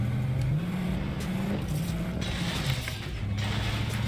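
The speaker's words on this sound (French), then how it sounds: "je peux rouler sur l'île de départ avec un véhicule" A vehicle drives across the starting island in Fortnite Season 7, a steady, loud game engine hum that rises and dips as it accelerates, with mechanical rattles and no voices.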